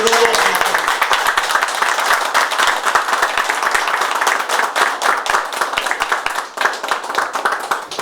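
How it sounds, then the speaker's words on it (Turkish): A crowd applauds steadily at a youth football team signing ceremony, dense continuous clapping filling the room at close range from start to finish. "tekrar kuvvetli bir alkış alıyoruz"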